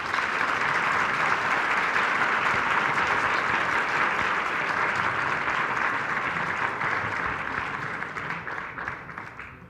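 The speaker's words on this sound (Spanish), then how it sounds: "Un fuerte aplauso, por favor." A large audience at a human rights event breaks into sustained, dense applause that stays loud and even throughout before tapering slightly toward the end.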